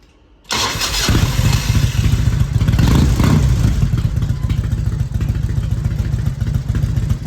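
A 1997 Harley Davidson with a Mikuni HSR42 carburetor cranks and catches after a moment of silence, then runs loud and close at a rough, lumpy idle.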